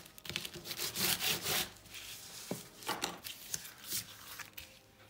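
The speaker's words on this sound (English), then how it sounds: "Take my bone folder, make sure it's glued well all the way till the end." A bone folder rubs and presses glued paper down on a handmade envelope junk journal page, giving close, dry scraping and rubbing strokes in irregular bursts, with soft taps between them.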